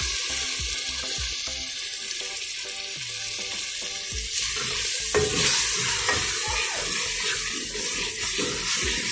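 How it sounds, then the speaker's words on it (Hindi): Chicken keema fries with masala in a pan while a spoon stirs it, giving close, busy scraping and sizzling that grows louder and denser halfway through. No voices are heard. "10 मिनट तक हमें इसको अच्छे से चिकन को इसी मसाले के साथ भूनना है, ताकि इसका कच्चापन बाकी ना रहे।"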